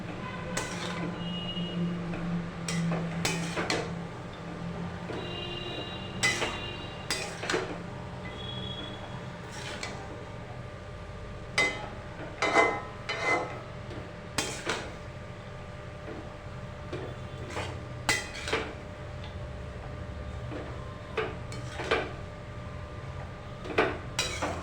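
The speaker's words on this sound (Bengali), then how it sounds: "এবার ভালো করে লবণ, হলুদ, জিরে মশলাগুলো শাকের সাথে আমরা মিশিয়ে নিচ্ছি।" Red amaranth greens are stirred in a pan with salt, turmeric and cumin, producing intermittent clinks, taps and scrapes of moderate loudness over a soft background hum, with no talking.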